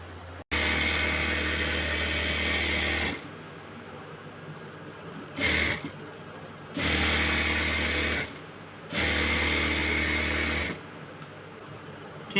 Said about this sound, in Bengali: সেলাই করে আপনাদেরকে দেখাবো